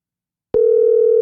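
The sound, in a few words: telephone dial tone when calling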